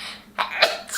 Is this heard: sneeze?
yes